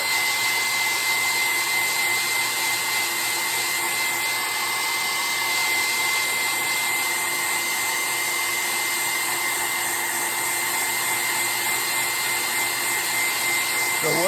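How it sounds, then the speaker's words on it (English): A hair dryer runs steadily at close range, drying primer on a carved wooden wren, a constant loud whooshing hum with a high whine, uninterrupted for the whole stretch. "We have another hair dryer."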